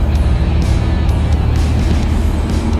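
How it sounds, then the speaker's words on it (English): Road traffic rolls past a rider on an Indian Scout motorcycle, a steady broadband rumble of car and truck engines and tyre noise with a few passing swells, heard from the roadside without voices. "Hey, traffic."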